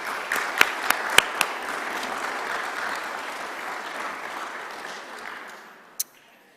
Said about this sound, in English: if I could ask for a round of applause for our board of directors.